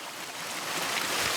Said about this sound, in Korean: 우렁찬 물소리가 정막을 깬다.